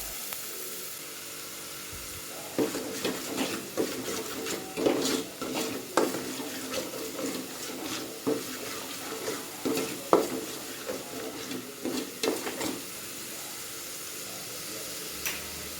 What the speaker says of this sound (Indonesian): tumis bawang hingga matang